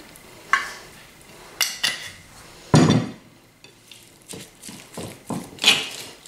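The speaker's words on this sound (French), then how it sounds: "Je vais la mélanger jusqu'à ce qu'elle soit bien homogène." A tuna, chili pepper and harissa stuffing being mixed with olive oil in a bowl: irregular scraping strokes and sharp knocks of utensil against the dish, close and clear, with quiet gaps between and no speech.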